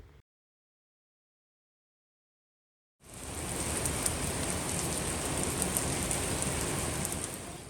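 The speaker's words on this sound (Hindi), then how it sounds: "एकदम से ही बारिश होना शुरू हो गई" Sudden rain begins after a few seconds of silence, a steady, dense hiss of drops falling on surfaces outdoors, even and moderately loud with no voices.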